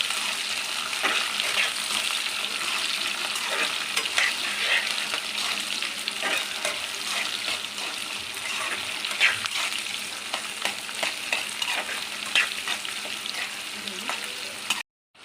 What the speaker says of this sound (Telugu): ఒక ఉల్లిపాయ, 4 పచ్చిమిర్చి, కొంచెం కరివేపాకు వేసుకొని బాగా ఫ్రై చేసుకోవాలి.